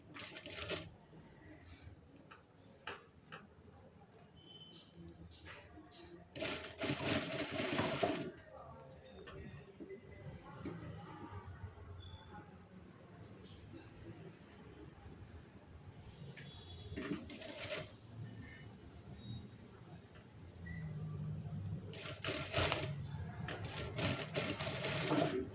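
A sewing machine stitches a fabric tassel made from lace, running in several short loud bursts separated by quieter stretches of handling and low background hum, with a voice speaking between bursts.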